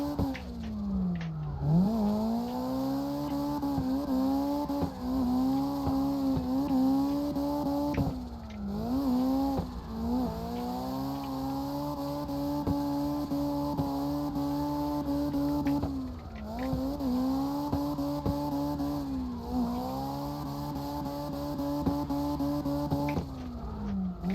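Mazda RX7 practice car fitted with an SR20DET engine driving in repeated revving pulls, the engine note rising and dropping with each gear change and lift, close and steady throughout.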